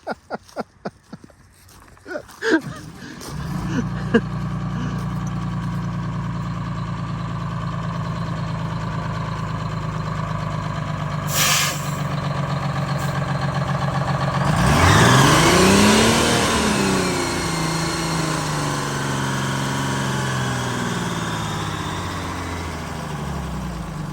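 An old bus engine labors to climb a hill, first idling low and steady, then revving and straining louder with rising and falling pitch, a brief sharp noise midway and faint voices underneath.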